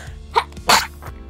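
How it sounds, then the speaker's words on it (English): A single person sneezes up close, a short sharp burst preceded by a quick intake of breath, with a faint breathy trailing sound afterward. "I had to sneeze."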